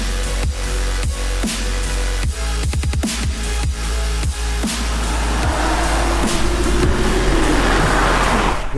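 A Nissan GT-R on standard turbos drives hard, its engine roaring loudly with sharp rev changes and rapid gear shifts, then a rising whine and rushing road noise as it accelerates, close and continuous with no talking.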